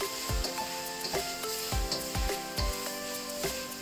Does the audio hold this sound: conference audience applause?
no